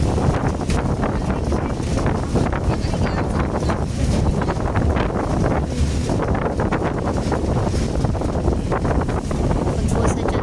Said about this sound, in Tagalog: Medyo mahangin na po sa part na.